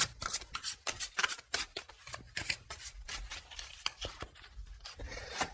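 Tarot cards being shuffled for a reading, a quiet, close run of rapid riffling and rubbing bursts in an irregular rhythm, with no talking.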